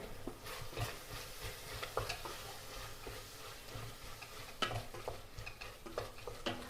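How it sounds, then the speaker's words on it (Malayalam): Quiet scraping and clinking of a spoon stirring chicken curry with masala and chilli and coriander powders in a pan, in irregular strokes with a faint sizzle beneath. "മസാല ഒക്കെ ചേർത്ത് പൊടിയൊക്കെ ചേർത്ത് നന്നായിട്ടൊന്ന് ഇളക്കി കൊടുത്തിട്ടുണ്ട്"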